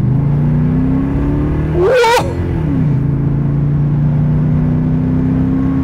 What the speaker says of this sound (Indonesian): 2500 RPM aja tuh suaranya tuh udah kayak mesin RPM tinggi ya